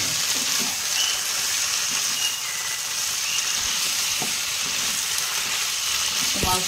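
Jackfruit curry with homemade garam masala being stirred in a pan, a steady close sizzle with scattered scraping knocks of the spoon throughout.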